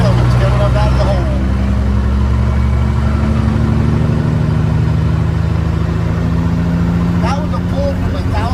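A heavy semi truck hauling a scissor-neck lowboy trailer lugs uphill from about 1,000 RPM, its deep diesel drone steady and loud throughout, with brief voices near the start and end.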